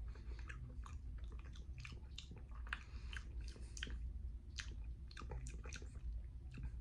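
Macarons topped with coconut flakes being chewed close up, giving a quiet, continuous run of soft, moist crunching and squishing bites.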